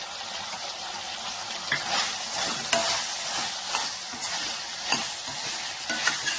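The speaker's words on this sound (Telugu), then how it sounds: "మళ్ళీ ఆనియన్స్ ఫ్రై అయ్యే వరకు సిమ్లో పెట్టి ఫ్రై చేసుకోవాలి" Onions fry on a sim flame for a liver fry, a dense continuous sizzle up close, with intermittent stirring scrapes and taps of a spoon on the pan.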